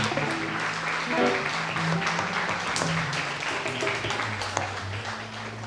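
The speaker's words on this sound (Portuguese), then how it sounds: "Vamos colocar de pé, dando uma salva de palmas para o Senhor." A church congregation stands and applauds, a steady dense clapping with music and voices underneath, moderately loud and continuous throughout.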